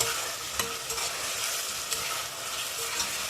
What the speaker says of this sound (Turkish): Sebzelerimizi 1-2 dakika karıştırarak kavuralım.